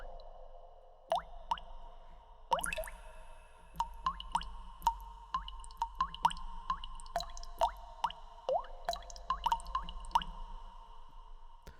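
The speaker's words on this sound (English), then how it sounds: "Let's listen to water drops." Water drops fall one after another, close and clear. They make irregular plinks and plops that grow denser after the first seconds, over a low steady hum, with no voices.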